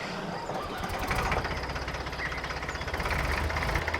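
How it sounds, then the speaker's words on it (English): A tractor engine chugs steadily nearby, with a fast rhythmic knocking pulse that holds for a few seconds, and no voices. "like the tractor, say"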